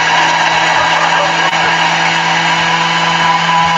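A Thermomix runs at top speed, a loud, steady whirring motor roar that holds unbroken for several seconds at close range.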